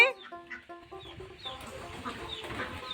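Chickens clucking in a farmyard on a rainy day alongside ducks, a series of short clucks up close at first, then a busier mix of fowl calls and background noise.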